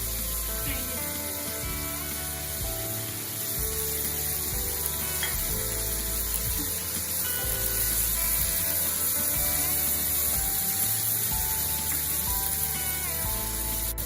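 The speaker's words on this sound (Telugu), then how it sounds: "పుదీనా ఫ్రై చేసుకోవాలి." Mint leaves fry in hot oil in a pan, a loud continuous hiss and sizzle close up, steady throughout with a faint pulsing hum underneath and no talking.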